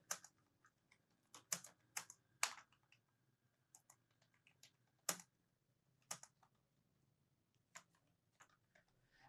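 Typing on a computer keyboard, with caps lock switched on: irregular bursts of sharp key clicks with pauses between them, close and moderately quiet, with no voice over it.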